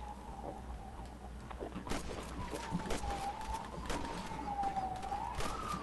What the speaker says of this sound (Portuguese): tô ouvindo um barulho de sirene, mano